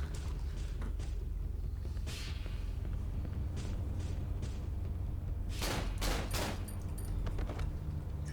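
Gunfire in the horror video game Cry of Fear: a burst of three closely spaced shots follows a few scattered earlier bangs, heard over a steady, heavy background rumble.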